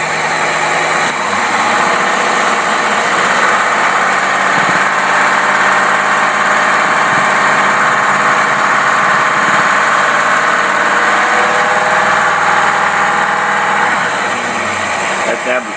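Steady idle from an engine with a Rochester Quadrajet carburetor, recorded close up, an even running drone with a constant pitch that holds throughout without any revving.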